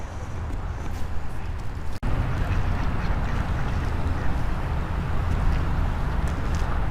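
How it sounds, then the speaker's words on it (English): Large ducks quacking by the Lehigh Canal, repeated close calls over steady outdoor background noise, with one brief dropout partway through. "Boy, these are some big ducks."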